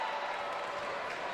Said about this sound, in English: Well, the crowd erupted